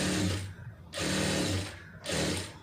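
Sewing machine running in two bursts as it stitches a folded fabric edge for a pencil fit garment, with a steady mechanical whir and a brief pause between runs, close and fairly loud, no voices.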